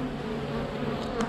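A dense swarm of bees drones close by, a thick, continuous buzz with no voices over it.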